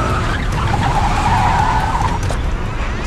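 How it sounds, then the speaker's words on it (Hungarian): A car skids to a stop on a one-way city street, its tires screeching loudly in a long sustained squeal over engine rumble. "A csávó csikorogva fékezett le előttünk."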